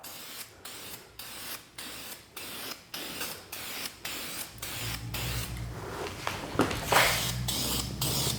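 An aerosol can of black spray paint hisses in a series of short, regular bursts while spraying wheels, then sprays longer and louder toward the end, close by.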